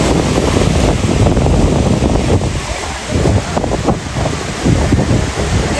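Wind and surf at Digha sea beach, a steady broadband roar of waves with gusty wind buffeting the microphone throughout, loud and close, with no voices.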